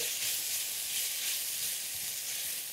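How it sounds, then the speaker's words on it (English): Ginger garlic paste fries with onions in a pan for a North Indian chicken curry, giving a steady, close, bright sizzle that hisses evenly throughout with no talking. "we just want to fry that with the onions until most of the moisture is gone"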